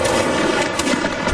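A volley of gunfire crackles in a video game battle, a dense, loud burst of rapid shots and bangs over a constant noisy battlefield din.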